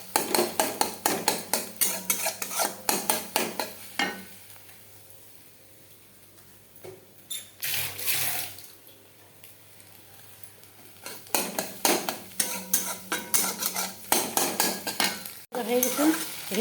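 An egg fries in a pan with bursts of sizzling and spatula scraping, loud stretches at the start and end separated by a quieter lull with faint clatter.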